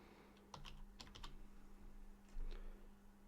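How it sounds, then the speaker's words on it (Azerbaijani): Quiet computer keyboard typing while entering a folder name during a WordPress setup, a short burst of several clicks followed by a pause and two more soft taps over a steady low hum. "qovluq adı yazıram"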